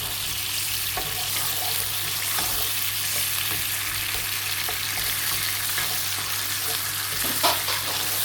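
Chopped tomato, onion, garlic and ginger fry in oil in a pan, giving a steady, close sizzle with scattered scraping and stirring clicks throughout and no talking.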